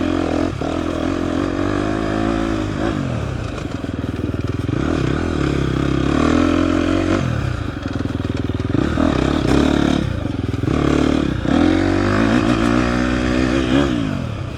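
A 2024 KTM 250 XCF dirt bike climbs a small offroad hill in Texas in second gear, its engine loud and close, revving and pulling steadily with repeated rises and dips in pitch as the throttle opens and eases.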